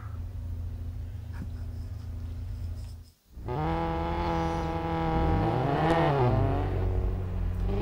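A Ferrari 500 TRC engine in the Real Racing 3 racing game at Bathurst's Mount Panorama hums steadily, cuts out briefly, then revs up loudly and climbs through rising and falling tones, a continuous close engine roar with no talk.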